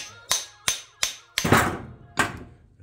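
Sharp metal hammer blows strike a collar on a Datsun 240Z/260Z R200 differential drive shaft, five or six distinct close impacts spaced roughly every half second, each ringing briefly.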